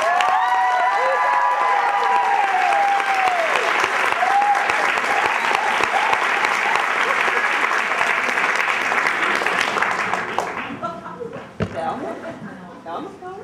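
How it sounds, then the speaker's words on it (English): Audience at a women's comedy show applauds and cheers as a comedian is introduced, a loud sustained round over a speaking voice and scattered cheers, tapering off after about ten seconds. "Please give her a round of applause"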